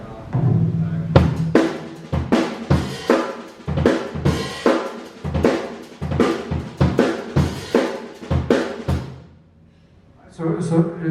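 An acoustic drum kit plays a busy, syncopated fusion groove with sharp snare hits and cymbals, then pauses briefly before a final chord-like hit.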